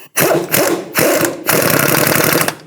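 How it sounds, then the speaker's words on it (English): A power tool tightens a front strut bolt on a 2001-2007 Volvo V70 XC during a CV axle replacement, three loud, close whirring and rattling bursts in quick succession. "Now we'll tighten the bottom one."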